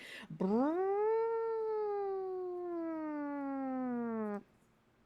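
A human voice imitates an old-timey alarm siren, a long sustained wail that rises then slowly falls for about four seconds, loud and close.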